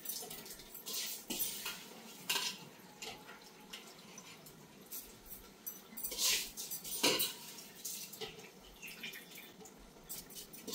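Kalijira polao rice fried with meat in a pot, heard as scraping and clinking of a metal spoon against the pot with soft sizzling and stirring, close and quiet.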